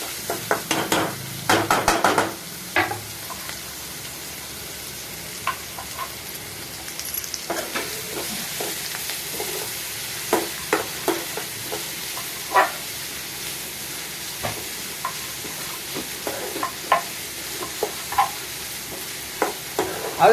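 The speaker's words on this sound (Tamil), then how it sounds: "இது நல்லா ஹை ஹீட்டில் வச்சு நல்லா பொன்னிறமாக வர வரைக்கும் வதக்கணும். வதக்கிக்கிட்டே இருக்கணும்." Food sautés over high heat in a pan in a home kitchen, with a steady sizzle under repeated scraping, clattering stirs throughout.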